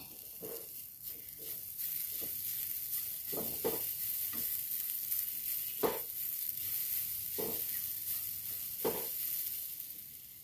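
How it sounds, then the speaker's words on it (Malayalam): Grated coconut with Kashmiri chilli, red chillies and fenugreek roasts in a pan with a continuous soft sizzle, broken by repeated scraping stirs of a spoon. "ഇനി ഇതൊന്ന് ഞാൻ ആദ്യം വറുത്തെടുക്കുന്നുണ്ട്."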